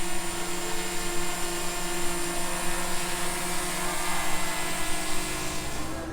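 A small DJI Mavic Mini drone flies nearby with a steady, high-pitched whirring buzz of its propellers, continuous and fairly even in loudness, with no talking.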